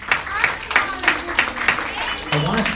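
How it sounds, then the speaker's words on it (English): Children at a school performance clap in scattered, uneven bursts while a voice talks over the top. "Give yourselves a round of applause."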